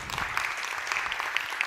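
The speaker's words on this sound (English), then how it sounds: "a round of applause to all of us" Brief burst of clapping from an audience, steady and fairly close, lasting only a moment.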